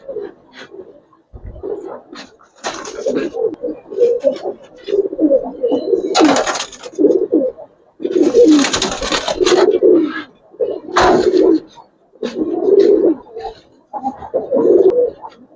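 Giribaz coloring pigeons coo in a loft, repeated soft throaty calls in irregular bursts close by, with some louder rustles and flutters between them.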